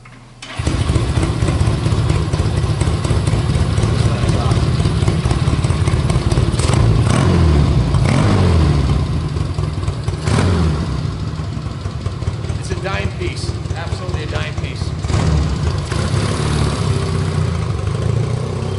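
A 1967 Honda CA77 305 Dream motorcycle engine runs steadily and loud throughout, with a few revs partway through and a rider's voice talking over it.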